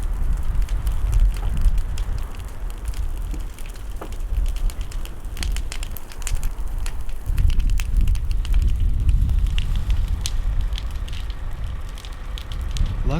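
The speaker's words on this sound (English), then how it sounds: "That garage, look, it's going up in flames right now." A garage burning in a wildfire near a house, with steady roaring and crackling fire noise that carries irregular snaps and pops throughout, loud and continuous with gusty wind.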